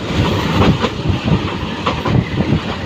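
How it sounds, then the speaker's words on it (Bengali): The small Surma Mail local train picks up speed on rails in Bangladesh, making a loud, steady rumble with rhythmic clickety-clack from the wheels and no voices. "তো ট্রেনের গতি বাড়াচ্ছে"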